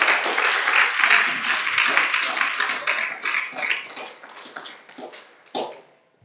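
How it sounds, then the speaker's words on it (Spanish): A church congregation breaks into applause, a dense burst of clapping that gradually thins and fades, ending with a few scattered claps. "denle un aplauso, déselo el día de hoy."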